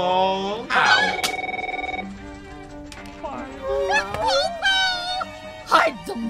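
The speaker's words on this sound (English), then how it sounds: "I hear if you say his name 3 times, the phone will ring." A telephone bell rings in a short burst, loud and close, heard alongside talking voices within a comedic lawyer advertisement.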